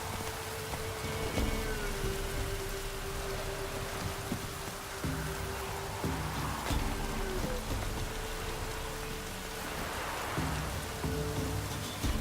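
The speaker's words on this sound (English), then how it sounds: "Oh, it's drizzling." Steady light rain drizzling in The Witcher 3, a continuous soft hiss of falling drops over a low background ambience, with no voices.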